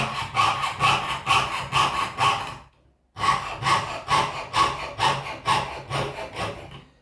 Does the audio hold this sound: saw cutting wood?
yes